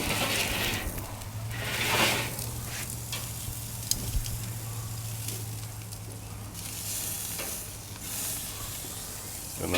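A fatty cut of meat searing over flames, a continuous soft sizzle and hiss with a few crackles, fairly quiet and steady, with no voices.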